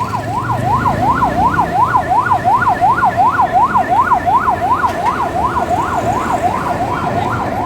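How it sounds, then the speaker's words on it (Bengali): An ambulance siren wails close and loud in a fast, continuous rising-and-falling pattern on a jammed city road during a street protest, with faint traffic rumbling underneath. "শুধু একমাত্র অ্যাম্বুলেন্স অ্যাম্বুলেন্সকে যেতে দেওয়া হচ্ছে"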